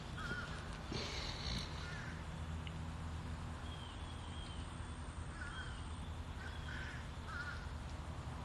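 A peacock calls outdoors with several short, loud, nasal honking cries at intervals over faint background noise.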